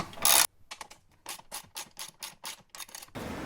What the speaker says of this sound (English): I'm gonna take off these 2 10mm bolts.